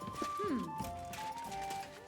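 Horse hooves clopping in the medieval game Kingdom Come: Deliverance II, a few soft steps under game music and a faint whinny-like tone, at moderate level.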